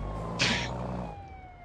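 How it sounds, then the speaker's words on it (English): Police car siren in the BeamNG driving game, a short bright electronic burst over a steady low engine drone with a sustained tone running underneath, no talk. "We got siren."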